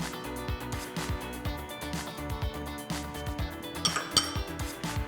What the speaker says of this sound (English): I get to mix all of your wet ingredients